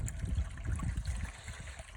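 Water trickling and gurgling as it fills a pit during hydro-drilling in sand, a soft continuous low burble heard alone.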